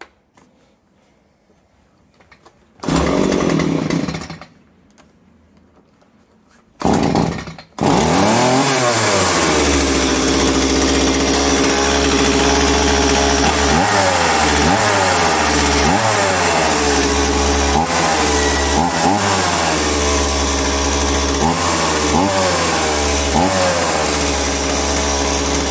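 A STIHL chainsaw that had trouble starting comes to life after a couple of pull-cord tugs. It then runs loudly and steadily up close, its engine rising and falling in repeated revs through to the end.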